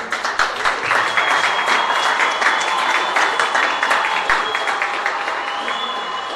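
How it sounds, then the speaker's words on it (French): Audience at the Empower17 closing award ceremony applauding the winners with steady, enthusiastic clapping that stays loud and even and eases slightly toward the end, with a faint tone running underneath. "On les applaudit bien fort."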